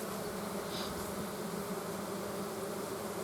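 Bees buzz around hive frames in a dense, continuous drone that holds at an even level throughout, with no voices over it.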